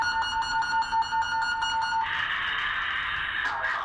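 A rapid repeating electronic tone pulses for about two seconds, then shifts into a harsher continuous buzzing alert tone, a launch alert message tone at a Titan missile site.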